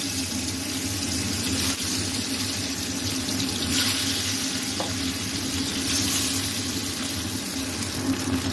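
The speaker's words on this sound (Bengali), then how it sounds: "তেলটা গরম হয়ে গেছে, মাছগুলো ছেড়ে দেব।" Pieces of chitol fish frying in hot oil in a wok, giving a steady, loud, continuous sizzle with no pauses from start to finish.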